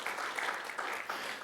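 A church congregation claps together at a Sunday service, a steady, moderately distant wash of many hands that swells and dips slightly and carries no talk.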